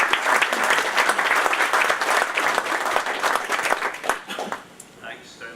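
A conference audience applauds as speaker Tony Lloyd is welcomed to the podium at a policing, race and justice conference; dense, sustained clapping fills the room, then thins and fades near the end.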